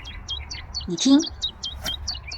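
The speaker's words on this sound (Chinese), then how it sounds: "每一个盒子都会发出不一样的鸟叫声" Birdsong played from a sound box at the Estonian Open Air Museum near Tallinn: a steady run of short, high chirps repeating through the clip, with a brief voice speaking over the middle.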